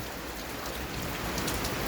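Steady heavy rain pours down outside during a storm from the southeast, a dense even hiss of drops drumming on surfaces that stays constant throughout, with no voices.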